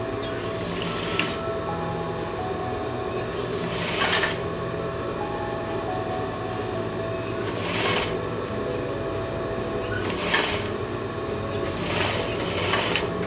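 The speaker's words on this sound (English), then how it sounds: "now we can go ahead and put that permanent stitch in" A sewing machine stitches a permanent seam with a steady close mechanical whir, broken by several brief louder bursts and pauses as the fabric is sewn.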